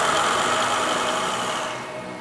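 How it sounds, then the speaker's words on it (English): An SDMO generator set runs steadily during factory testing inside a sound-insulated room with special exhaust circuits, a loud continuous engine roar with a broad hiss. "At this stage, the generator is placed into a sound-insulated room with special exhaust circuits."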